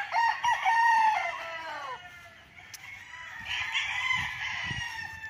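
A rooster crows loudly nearby on a farm lot in Liliw, Laguna, followed by softer hen clucks and another crow in the background.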